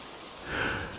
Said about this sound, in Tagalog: Ang ulan ay patuloy na bumubulusok sa bubong.